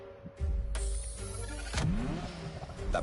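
A Ferrari F40 engine in the racing game The Crew Motofest, revving hard with a loud rising roar, a shift and a second surge, heard close and alone.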